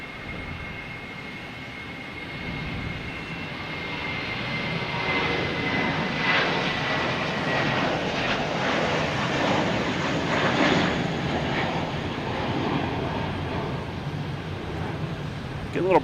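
An American Airlines airplane at Boston Logan builds from a quieter start into a sustained, moderately loud engine roar that peaks near the middle, with some voices faintly underneath.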